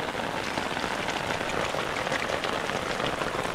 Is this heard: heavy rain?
yes